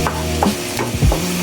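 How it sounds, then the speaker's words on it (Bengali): An egg stirred and fried in a pan for fried rice, a brief close burst of spatula scrapes and soft sizzling in quick uneven strokes. "এখন ডিমটা আমি নেড়ে চেড়ে ভেজে নিচ্ছি"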